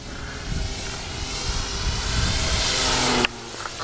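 Electric RC Goldberg Piper Cub model airplane doing touch-and-goes, its motor whine rising steadily as it passes close, then cutting abruptly near the end.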